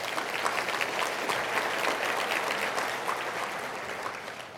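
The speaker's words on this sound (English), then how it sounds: "Please give them a round of applause." Sustained audience applause at an education conference opening luncheon, many hands clapping steadily and fairly loud for several seconds before easing slightly toward the end.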